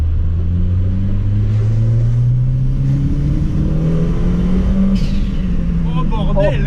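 A Peugeot 309 turbo accelerates hard from inside the cabin, its engine droning and rising steadily in pitch through the gear. The sound is loud and close, with a brief hiss near the end and excited voices underneath.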